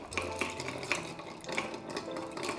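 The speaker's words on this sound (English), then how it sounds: "Let's go ahead and give that a nice stir" Ice stirred in a mixing glass for a chilled, diluted cocktail, with steady close clinking and swirling of cracked ice shards running throughout.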